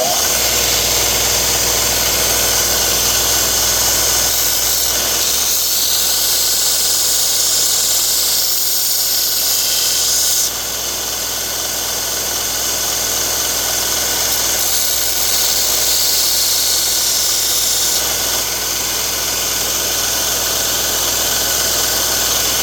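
A Norse tabletop sander pad grinds the edge of an outdoor knife, giving a loud, steady motor whine with a high abrasive hiss that shifts in pitch as the blade is worked.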